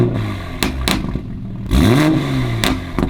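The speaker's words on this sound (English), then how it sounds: "Slapped the Borla attack system on there with the Borla carbon fiber tips." A Toyota Supra fitted with a Borla Attack exhaust and carbon fiber tips gives a short rev that climbs and falls, nearby and fairly loud, among clattering thumps and shop noise.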